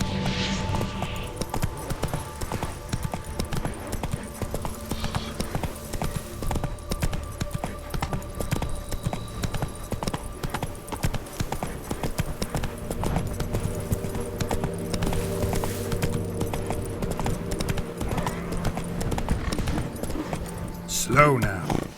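Horse galloping in the video game Witcher 3 with steady rhythmic hoofbeats under a constant bed of game music and ambience, fairly loud and continuous throughout.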